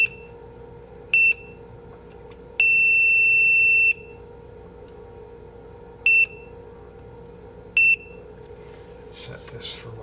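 An LED clock kit gives sharp, high beeps: a short one, a long held tone, then two more short beeps, spaced apart over a quiet hum.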